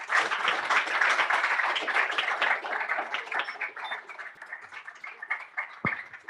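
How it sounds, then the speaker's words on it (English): An audience at a climate-science seminar gives a long, dense round of clapping that stays steady before thinning out, with one sharp thump near the end. "and one final round of applause for your"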